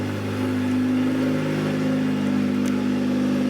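A turbocharged Toyota Celica GT-S idles steadily after its first start, a close, even engine hum that holds constant throughout without revving.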